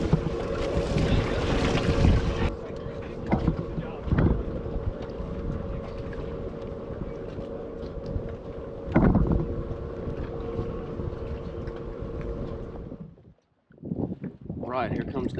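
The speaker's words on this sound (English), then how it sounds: "That north wind is gassing." A strong north wind buffets a boat on open water on Lake Champlain, with steady roaring gusts and wind noise on the microphone for most of the span, dropping briefly near the end. People can be heard talking over it.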